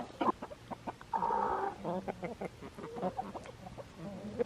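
A limping hen clucks in short, uneven bursts close by during a health check, with one longer drawn-out cluck and some light handling noise.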